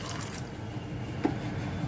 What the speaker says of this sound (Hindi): इसके अंदर 1 गिलास मैं पानी ऐड कर रही हूँ